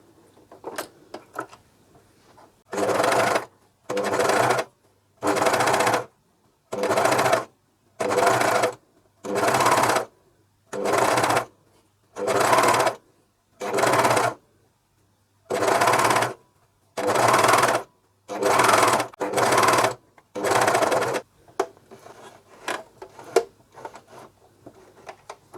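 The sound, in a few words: Juki MCS1 coverstitch machine sewing a pocket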